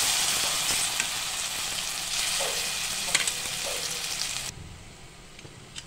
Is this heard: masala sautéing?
yes